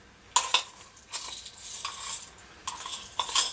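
A metal spoon clinks and scrapes against a cooking pot while measuring soup ingredients, a few bright taps and rattles spread irregularly over a few seconds, close and moderately loud.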